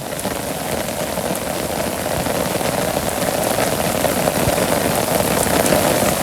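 Steady, heavy rain patters loudly and continuously on a surface in a Bangladeshi village, with no voices.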